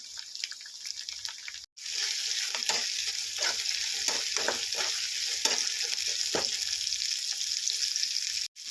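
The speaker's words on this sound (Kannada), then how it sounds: "ಸ್ವಲ್ಪ ಇವು ಬೆಂದ ಮೇಲೆ ಕರಿಬೇವು ಹಾಕೋಬೇಕ್ರಿ. ಆಮೇಲೆ ಟೊಮೆಟೊ" Moth bean sprouts stir-fry with curry leaves and tomato in a hot pan, a bright, steady close sizzle with stirring scrapes, briefly dropping out twice before resuming.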